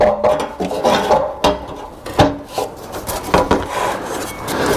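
A wrench works the nuts of the upper exhaust clamp on a Porsche Boxster 981 GTS sports exhaust: close, scraping metallic rasps and clicks come in uneven bursts, with no talking.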